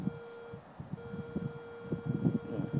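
A Garrett Ace 250 metal detector holds a steady pinpointing tone over a shallow coin target in the ground, the tone breaking off briefly and resuming, with scuffing and digging noises close by.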